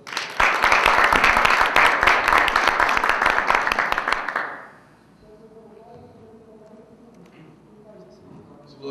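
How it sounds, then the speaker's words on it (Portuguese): Audience applause at a Python talk at FATEC São José, loud dense clapping for about four seconds that fades out, followed by quiet room noise and faint voices. "Salve de palmas primeiro, né?"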